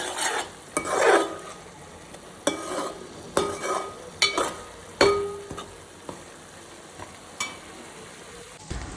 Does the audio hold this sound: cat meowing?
no